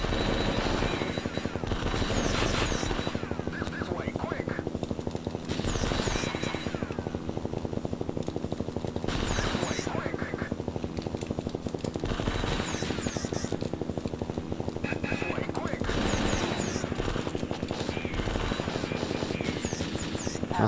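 Helicopter and bursts of gunfire in the 1994 Taito F3 arcade game Elevator Action Returns, a steady rotor-like drone with repeated loud rapid-fire volleys recurring every few seconds, no talk.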